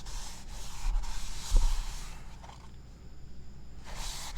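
A rag rubbing cheap Walmart oil onto Corvair parts, a soft, steady scuffing that swells briefly with a bump, then fades before returning; close and moderately loud, with no talk.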